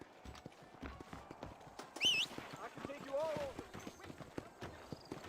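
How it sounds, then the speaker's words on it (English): Horse hooves clip-clop at a steady trot in the video game Red Dead Redemption on Xbox Series S, with a short whinny partway through. The hoofbeats stay fairly quiet under the game's music and background sound. "O cavalo."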